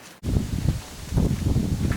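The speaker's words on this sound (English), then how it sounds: "Kind of another windy day out here at the range" Gusty wind buffeting the microphone at an outdoor shooting range, a low rumbling roar that dips briefly at the start and then swells unevenly in close, blustery surges with no talk.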